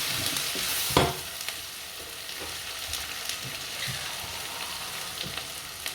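Chili powder frying in a pan for Tamil-style fish curry, a soft continuous sizzle close by, broken by scraping stirring strokes and one sharp knock near the start.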